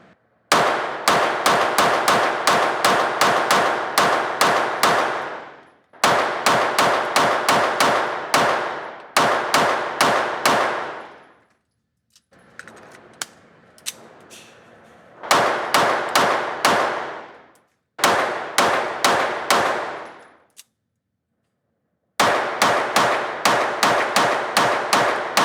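A rifle fitted with a duty-line barrel fires loud, close rapid strings of shots in bursts of several rounds, separated by short pauses.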